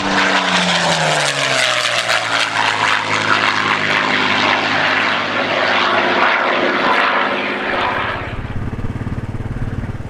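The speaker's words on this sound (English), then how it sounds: "Little Spitfire flying through the valley," A low-flying Spitfire propeller aircraft passes through a valley, its loud droning engine falling in pitch as it goes by and then fading in the final seconds.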